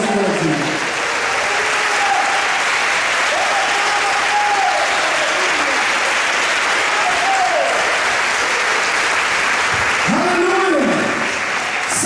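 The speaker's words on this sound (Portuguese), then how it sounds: "aí aplaude o Senhor por aqui" A church congregation applauds during a sermon, loud dense clapping that continues steadily throughout, with voices calling out over it.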